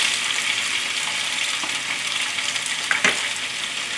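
Thick rice noodles with Chinese vegetables stir-frying in a hot pan, a steady close sizzle with a couple of brief scraping stirs near the end and no talking.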